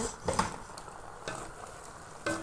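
A dish with fresh coriander leaves is stirred in a hot pan: a soft continuous sizzle under three distinct scraping strokes of the spoon, spaced about a second apart, close and clear.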